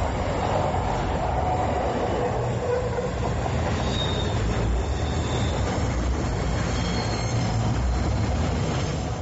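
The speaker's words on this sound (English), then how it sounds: "the screeching and moaning of the wagons that's the issue" Freight wagons roll past with a continuous rumble, overlaid by thin metallic screeches and moans that rise and fade as the cars go by.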